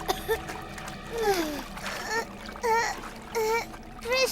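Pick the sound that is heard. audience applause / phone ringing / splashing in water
splashing in water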